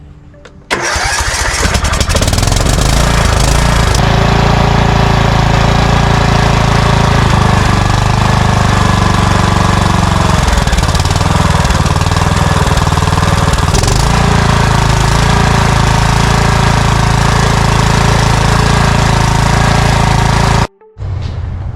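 Riding lawn mower engine running on a newly replaced carburetor: it cranks and catches, then holds a loud, steady, close rumbling drone with slight wavering for about twenty seconds before a brief dip at the end.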